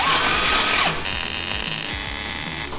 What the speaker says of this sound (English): I'm gonna drill a hole through both of these.